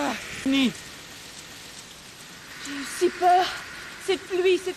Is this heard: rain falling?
yes